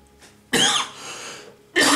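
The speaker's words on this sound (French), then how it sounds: "c'est une toux d'irritation là, mais qui ne passe pas." A man gives a couple of short, dry irritated coughs, close and fairly loud, separated by a brief pause with a faint breathy sound between them.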